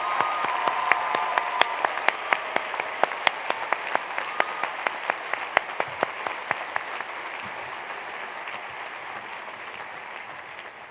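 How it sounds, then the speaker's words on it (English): Audience at a 2009 commencement ceremony applauding faculty, a full, steady wash of clapping from a large crowd with sharp individual claps standing out, slowly fading toward the end. "Please join me in a round of applause for these distinguished faculty."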